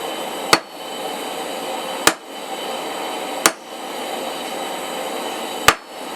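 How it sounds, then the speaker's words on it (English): Light hammer blows at the edge of an anvil, drawing in the hot tip of a forged steel center punch: four sharp, ringing strikes spaced a second or two apart over a steady background roar. "we're just going to go straight to the edge of the anvil and do light blows to bring in that tip a little bit."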